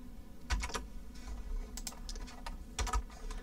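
Keys clatter on a computer keyboard while Python code is entered, a loose run of quick clicks with a few heavier strokes, close and alone.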